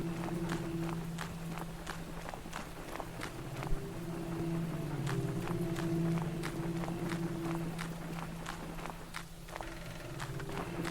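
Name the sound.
character footstep sounds in video game Lucid Blocks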